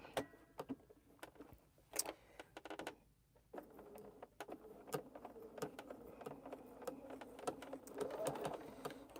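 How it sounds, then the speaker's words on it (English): A sewing machine stitching fabric during a quilting session, faint bursts of rapid mechanical whirring and clicking that start and stop, with quiet handling noises between runs. "We're just sewing this down."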